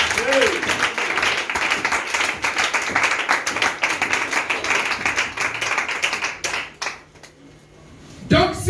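A church congregation applauds during a French-language sermon, loud sustained clapping for about seven seconds that fades out, followed by a voice speaking at the end.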